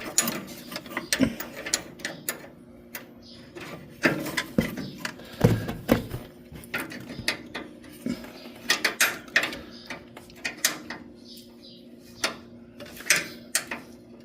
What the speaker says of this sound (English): 5/8 wrench to hold the bottom, and a 3/8 wrench to unscrew the top.